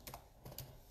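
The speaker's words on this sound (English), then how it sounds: "It's really hard typing with one hand." A computer keyboard typed on with one hand gives a few sparse, uneven key clicks, faint and close, with no voices over them.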